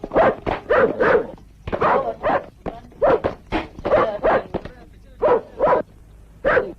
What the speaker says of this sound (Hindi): इनके पीछे कुत्ते भौंकते रहते हैं